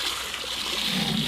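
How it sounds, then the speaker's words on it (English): Running water at an allotment, a steady close rush and splash that fills the whole short stretch with no voice over it. "Hopefully you can hear me over this water."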